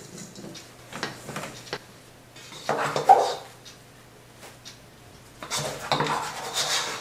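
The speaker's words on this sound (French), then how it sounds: "On prend une petite partie des blancs et on commence à mélanger." Whipped egg whites folded into macaron batter in a bowl for vanilla-coffee macarons, with soft scraping, rubbing and occasional spoon taps against the bowl, close and steady, with no talk.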